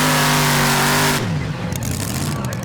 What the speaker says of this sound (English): It's a Keith Black engine which has taken him to the lead in the Danish Championships